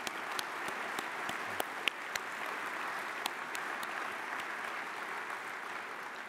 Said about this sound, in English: How about join me in a round of applause for that Nelson who sang the national anthem